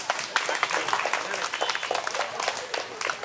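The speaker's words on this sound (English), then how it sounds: "big round of applause for that" Students and guests at a school river-cleanup campaign event clap together, a moderately loud, slightly uneven patter of applause lasting a few seconds.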